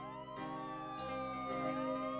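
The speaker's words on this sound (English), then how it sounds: "The sound of sirens can be heard softly, but are drowned out by the rising sound of the musicians' orchestra." Sirens wail softly in a stage play, their gliding tones weaving through a swelling orchestral backdrop of sustained notes, moderately quiet and partly blended into the music.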